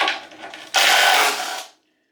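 A ratchet works on engine oil pan bolts during a 4.7 stroker engine teardown. Brief clicking comes first, then a loud, close burst of quick ratcheting for about a second that stops abruptly, with no talk.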